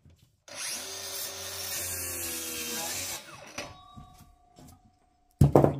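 A cordless circular saw with a 140mm Parkside blade crosscuts ash wood, a steady loud whine for about three seconds, then the blade spins down into quieter knocks and a voice.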